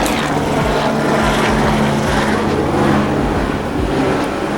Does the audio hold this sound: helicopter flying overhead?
yes